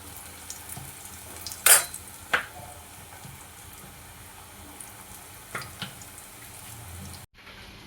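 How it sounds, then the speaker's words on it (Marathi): Coriander vadi (kothimbir vadi) frying in hot oil in a home kitchen, a steady soft sizzle with a few sharper clinks of a utensil against the pan, close and continuous until it cuts off near the end. "तर बघू शकता इथे मस्त अशा खमंग आपल्या कोथिंबीर वड्या मी तळते"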